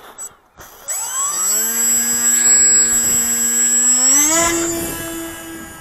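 Electric motors of an RC model aircraft on its maiden flight, controlled by iNav flight firmware, spool up from silence into a loud, steady whine, rising in pitch near the end as the throttle increases.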